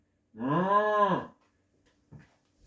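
A cow gives one long, loud moo, rising and then falling, followed by a short faint sound and quiet.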